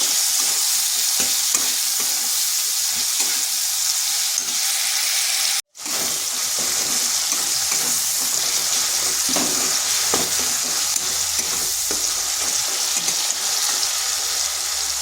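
Cabbage and chana dal curry fries in a pan with a loud, constant sizzle while a spoon stirs it with scraping strokes, cut by a brief break near the middle.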